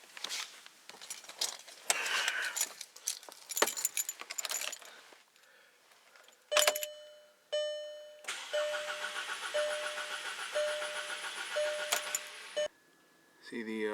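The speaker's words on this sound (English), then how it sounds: "go ahead and crank it for a few, be able to get a good reading" A Volkswagen 2.0 TSI CBFA engine with suspected timing fault cranks over in a workshop, a steady whirring drone with a repeating pulsing tone, preceded by keys jangling and clatter and ending abruptly.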